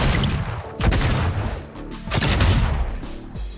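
Bullets fired in Streets of Rogue 2 crack out as rapid, loud, overlapping gunshots with deep booms, continuous through the burst.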